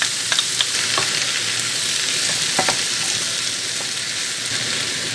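Tomato sizzling in oil in a frying pan, a steady bright hiss with a few soft clicks and stirring scrapes, close and continuous, no talking.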